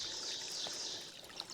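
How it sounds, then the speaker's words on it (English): Water trickles through a shallow trench dug about an inch and a half below the water level, a steady soft hiss with faint birdsong in the background and no speech. "Not much water flowing through."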